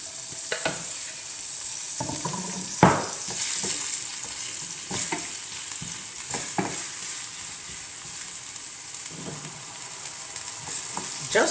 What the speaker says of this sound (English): we're going to put some butter in this pan, as much butter as you'd like, and just scoop our onion into the butter